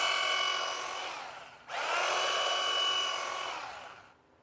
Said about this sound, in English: So is that a kitchen chainsaw?